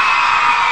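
A live forró concert audience in 1999, with women screaming and whooping together in a sustained, loud, high-pitched crowd roar, dense and unbroken throughout.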